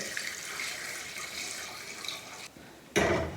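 Steady running water from a tap splashes for a few seconds, pauses briefly, then resumes louder and closer.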